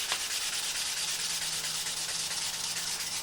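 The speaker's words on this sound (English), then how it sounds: "the last thing is a good old hand sanding, high grit on a foam pad" A high-grit foam sanding pad rubs by hand across a wooden bowl in quick, even back-and-forth strokes, a close, continuous soft hiss with no voices.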